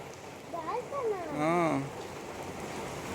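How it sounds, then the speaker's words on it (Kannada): Steady rain hisses in the background while voices talk and exclaim over it, swelling briefly louder midway. "ಯಾವುದು ಗುರು ಮಳೆ ಇದು"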